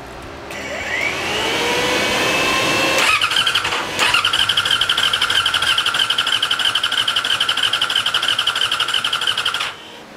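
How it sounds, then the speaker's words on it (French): Yamaha R6 stunt sport motorcycle engine on a rebuild being cranked, a whining starter rising into a steady high mechanical whir for several seconds, stopping briefly, then resuming at a sustained even pitch before cutting off, loud and close with no talk. "je vais mettre le contact, je vais mettre des coups de démarreur"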